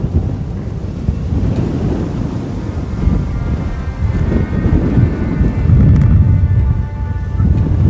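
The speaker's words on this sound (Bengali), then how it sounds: "বিশাল হাওয়া দিচ্ছে, শব্দ কতটা শোনা যাচ্ছে বলতে পারছি না, প্রচণ্ড হাওয়া দিচ্ছে" Strong wind on a river roars and buffets the microphone continuously, a loud rumbling gust that swells and never lets up.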